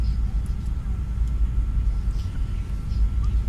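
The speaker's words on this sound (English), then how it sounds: "FedEx Heavy, we're actually taxiing to the gate." A FedEx heavy cargo plane taxiing to the gate in a flight simulator video game, a steady loud low engine rumble throughout with no breaks.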